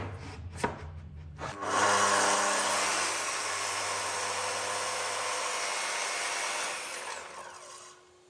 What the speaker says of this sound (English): Trim these horns off.